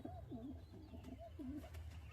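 Young pigeons coo softly in a loft, with a couple of rolling, warbling calls over a low steady background hum; close but quiet, no voices.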